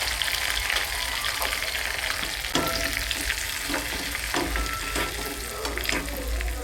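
Asafoetida sizzles in hot oil for a South Indian tempering, already crackling with curry leaves after the stove is switched off, a steady close frying hiss with a few sharper spits and stirring sounds.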